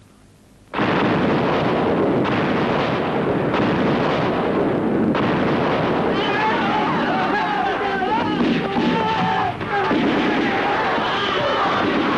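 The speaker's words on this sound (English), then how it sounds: "Fire off the mortars." Mortar rounds and artillery boom continuously in a war video game set at the Battle of the 38th Parallel, a loud, dense barrage starting abruptly after a quiet moment, with game voices shouting over it.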